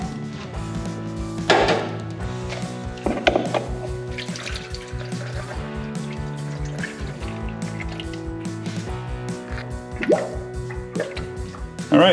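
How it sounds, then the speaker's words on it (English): Coolant poured into the cooling system of a 1966 Mustang, heard as continuous trickling and gurgling liquid with occasional drips and clunks, close by, with soft talk in the background at times. "So let's put the coolant back in."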